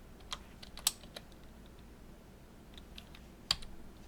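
A few sparse Tab key presses on a computer keyboard during coding, isolated sharp clicks spread over several seconds with quiet gaps, close and alone.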